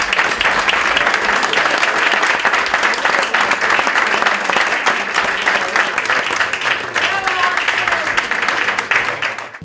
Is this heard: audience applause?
yes